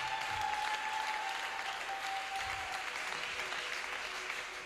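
A church congregation at a service in Pointe-Noire applauds and cheers for the Holy Spirit, a dense, sustained wash of clapping filling the hall, steady and fairly loud throughout, with a faint tone lingering underneath.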